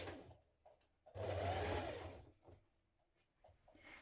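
A sewing machine runs in one sustained burst of fast stitching along a long coat seam, with quiet handling taps before and after.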